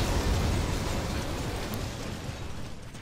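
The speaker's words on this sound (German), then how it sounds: "Wir sind natürlich zu cool, um in Explosionen zu gucken" Explosion in the video game Vanquish, a dense sustained low rumble with crackling debris noise across the whole burst, loud and steady before slowly thinning out, with no voices over it.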